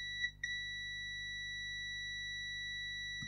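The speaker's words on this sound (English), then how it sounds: "See if we get a solid beep from there to there." A multimeter on continuity test gives two short steady beeps close together near the start while checking a 1970s Trafalgar LED watch, and then a faint hum carries on alone.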